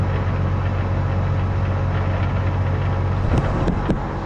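A tractor engine idles steadily with a deep low rumble and constant vibration, loud and close, with a few brief higher clanks near the end and no talk.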